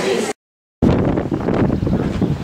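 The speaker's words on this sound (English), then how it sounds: "Very windy here. You can probably hear through the camera." Strong coastal wind near Christchurch buffeting a camera microphone, loud roaring rumble with a brief total dropout near the start, then continuous gusting.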